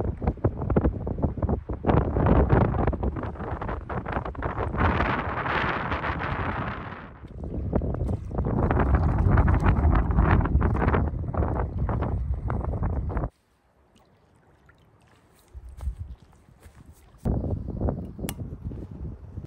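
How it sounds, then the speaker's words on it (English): Strong wind blows outdoors during a canoe trip on open water, roaring and gusting loudly against the microphone in long sustained buffets, then briefly dropping away before another gust returns. "we'll have to paddle back home into the wind"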